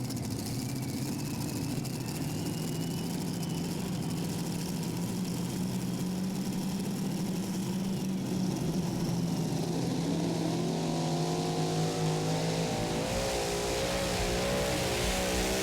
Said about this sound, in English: in the super modified class, they have the option of running the 3-engine setup or the 4-engine setup